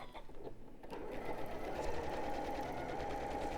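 Sewing machine running steadily at a long stitch length for top stitching, a continuous close whirring hum that speeds up after a short faint start and holds evenly to the end, with no talk.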